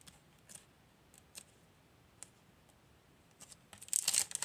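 McDonald's fries package torn open by hand, faint crinkly ticks and rustles building to a brief burst of sharp paper tearing at the end.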